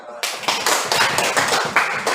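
A classroom group breaks into close, lively clapping after a presentation, a quick run of sharp overlapping hand claps that starts abruptly and keeps a loose rhythm for two seconds.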